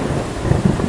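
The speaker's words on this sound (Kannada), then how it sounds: "ಮಳೆ ರಭಸ ಕೂಡ ಜೋರಾಗಿ ದೂರದಿಂದ ಕೇಳ್ತಾ ಇದ್ದ ಗುಡುಗು ಸಿಡಿಲು ಮನೆ ಮೇಲಿಂದನೇ ಹಾದು ಹೋದಾಗಿ" Heavy rain pours down with a low thundery rumble rolling underneath, a steady dense wash of noise with no voices.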